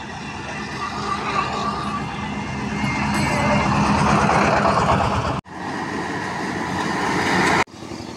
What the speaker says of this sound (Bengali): দেখেন ঘোড়ার গাড়িটা কীভাবে জোরে নামে যায়